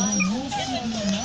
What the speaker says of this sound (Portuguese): os cachorrinhos, pra quem quiser adotar, né?